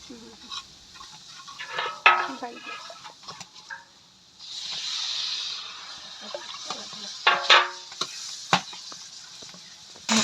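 Hilsa fish curry is stirred and sautéed in a pot over a village clay stove, with scattered scrapes and clinks of a spoon against the pot, a short sizzling hiss in the middle and a rooster crowing nearby.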